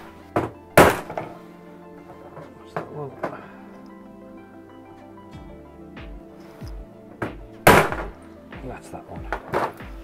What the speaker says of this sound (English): Let's punch a little hole,